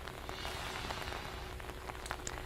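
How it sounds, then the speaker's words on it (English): Rain falls steadily outdoors beside a flooded, closed highway in Minneapolis, a dense, even patter of drops on wet surfaces with no talking. "The rain has just picked back up."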